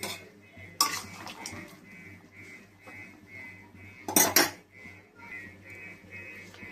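A lid is set over a pot of boiling turmeric water holding cut young jackfruit, making two bright metallic clanks a few seconds apart over a quiet kitchen background.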